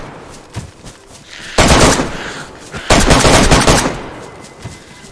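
Gunfire in the video game DayZ: two loud, close bursts of rapid automatic shots, each lasting about a second, separated by a short pause, with a few fainter single pops before them.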